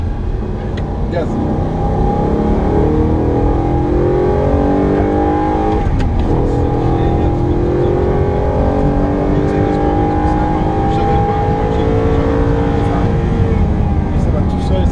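Continuous loud engine roar from an Audi R8 on throttle, with repeated rising pitch sweeps as it accelerates and shifts, recorded from the cabin while a person talks intermittently over it.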